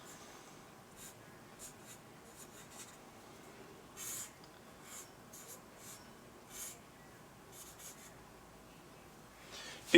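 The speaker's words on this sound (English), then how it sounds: "we're going to draw some eyebrows" Pen sketching eyebrows on a cartoon lion drawing, quiet close scratchy strokes in short repeated bursts, a couple slightly louder, no voices.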